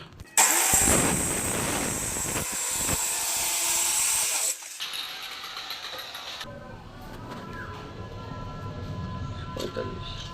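Cutting machine slicing a tile for pillar cladding: a loud, harsh grinding whine for about four seconds, then quieter rattling and handling noise, with people talking nearby.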